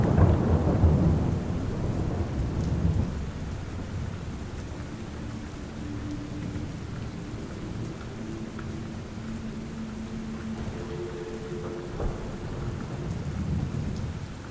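Steady heavy rain falling on surfaces with deep rolling thunder, loudest at the start and swelling again near the end, a continuous storm with no voices.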